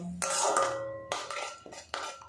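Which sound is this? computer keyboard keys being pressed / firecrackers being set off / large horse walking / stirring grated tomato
stirring grated tomato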